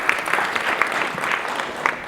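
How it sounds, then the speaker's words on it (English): An audience applauds a speaker at a medical conference, steady clapping filling the short span at moderate loudness with no talk over it. "another round of applause, please, for Dr. Dellinger."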